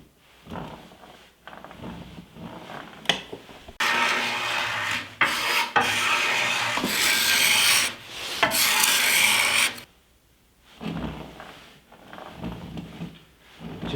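A wooden bow limb is scraped in short rasping strokes to tune its bend, with bursts of dry scraping separated by pauses, close and fairly loud.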